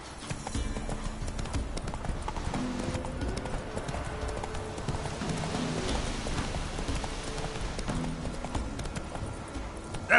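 Roach the horse galloping in The Witcher, a steady rapid clip-clop of hooves under an ambient game score with faint rain-like texture.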